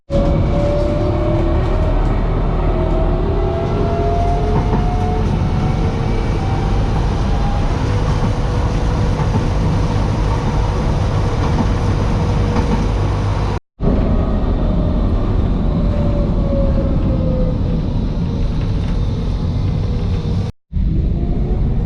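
A train running loudly in Zagreb gives a steady, close rumble with rail squeals gliding over it, broken by two brief cutoffs, and no voices are heard.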